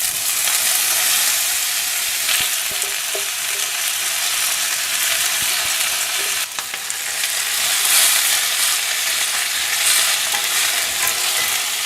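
Urad dal, red chillies and curry leaves fry in a couple of teaspoons of oil for a curry leaf thuvaiyal. A loud, close, continuous sizzle plays with faint stirring scrapes.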